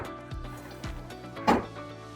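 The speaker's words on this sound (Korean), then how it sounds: "문을 닫아 볼게요." An apartment sash window being slid shut, with a few low thumps and a louder clack near the end as it closes, heard up close with no talk.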